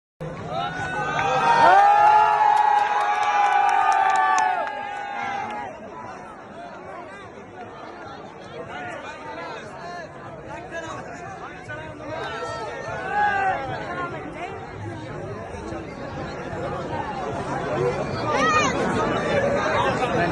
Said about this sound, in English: De Blasio also sent cops to disperse a large crowd of Jews who were in the streets celebrating Sukkot